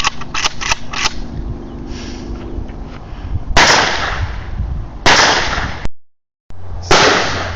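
Single shots from a Zastava PAP, a ten-round single-stack AK-pattern rifle with iron sights, fired at an outdoor range. Several sharp, loud cracks ring out in an irregular sequence, some quick and close together and others spaced apart.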